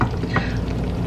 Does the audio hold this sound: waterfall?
no